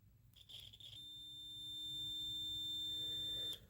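A cheap multimeter in continuity mode gives a steady, clear electronic beep tone lasting about two and a half seconds, held at one pitch and then cutting off abruptly, with faint handling noise before it.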